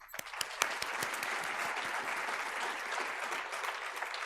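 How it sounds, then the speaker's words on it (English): An audience at a business excellence awards ceremony for women entrepreneurs claps for the awardees. The applause is steady and sustained, with sharp individual claps standing out near the front throughout. "We have clapped for them many times and, on my behalf, let's do it one more time."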